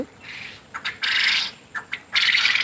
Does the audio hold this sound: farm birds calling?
yes